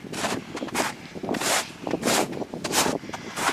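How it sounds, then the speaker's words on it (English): Gusty wind at a lakeside campsite buffets the microphone in uneven rushes, loud roaring bursts swelling and fading every half second or so. "A little windy. I'll get out of the wind."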